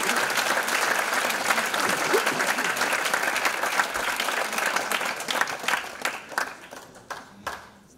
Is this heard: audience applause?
yes